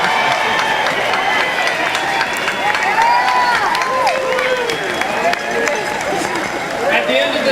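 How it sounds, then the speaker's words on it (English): A commencement ceremony crowd gives a loud, sustained round of applause with cheering mixed in, while voices carry over the clapping. "join me in giving them a round of well-deserved applause"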